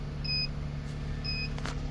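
Two short electronic beeps about a second apart from an anti-theft immobilizer confirming a code in a 2025 Ford F-150, clean and moderately faint over a low idling engine hum.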